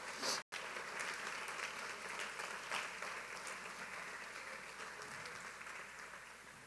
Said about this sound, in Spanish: Aplaude el nombre del Señor.